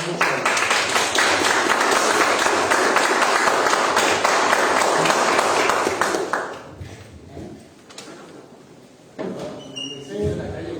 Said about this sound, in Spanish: Un aplauso, muchísimas gracias a nuestros compañeros funcionarios de la Junta Municipal